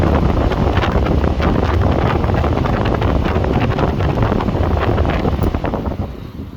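The dual cooling fans of a Contour/Focus hybrid roar at high speed with a steady, loud, broadband rush of air close to the microphone, fading slightly at the very end.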